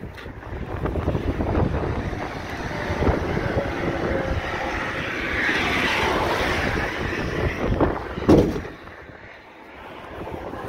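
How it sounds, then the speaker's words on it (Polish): Strong, gusty wind roars steadily against the microphone outdoors during a truck tow, with a forceful blast near the end strong enough to blow a truck's hood open. "ty taki wiatr, żeby aż maskę otworzyć"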